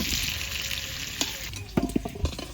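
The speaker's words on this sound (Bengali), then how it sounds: "আলুগুলো লাল লাল করে ভাজা হয়ে গেছে," Potatoes sizzling and crackling in a hot pan as they brown, with a few clinks and scrapes of a utensil stirring toward the end.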